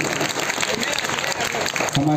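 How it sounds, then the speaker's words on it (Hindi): Crowd at a Durga Puja prize distribution ceremony in a temple courtyard claps in a busy, steady patter, with talk and voices mixed in underneath the applause. "तालियां उठती रहनी चाहिए।"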